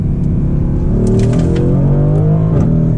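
A Mercedes GLC 63 AMG in Sport Plus mode pulls away hard from inside the cabin, its engine note climbing in steady rising harmonics over a loud, continuous rumble with no talking.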